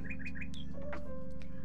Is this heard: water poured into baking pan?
no